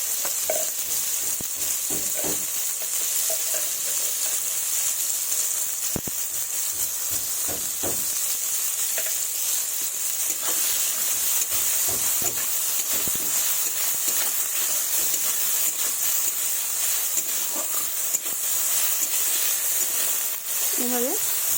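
Soybean chunks frying with turmeric powder in a pan, a long, even hiss of sizzling oil with occasional soft stirring scrapes, steady and fairly loud throughout.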